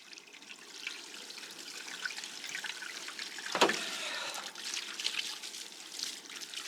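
Running water rinses a mud-caked load outdoors at dusk, a steady hissing trickle throughout with one brief, louder splash near the middle.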